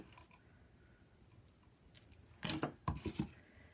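Scissors snipping material for a handmade traveler's notebook: a few faint, close cuts, then a cluster of sharper snips near the end over quiet room noise.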